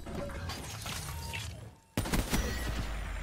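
Gunfire in the video game Call of Duty Black Ops 3: scattered shots and impacts, a brief lull, then a sudden loud burst of rapid firing and crashes.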